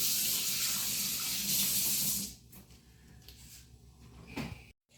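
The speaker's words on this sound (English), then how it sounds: "my hands are kind of dirty right now. So I'm going to rinse them off." Kitchen tap running at full flow while hands are rinsed under it, a loud broadband rush of water that stops after about two seconds, followed by quieter drips, clatter and a brief final splash.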